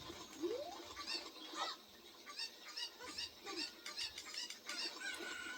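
A cuckoo chicken in The Legend of Zelda: Ocarina of Time clucks in a string of quick, squawky calls with a rising squeal near the start, faint and thin over a quiet background.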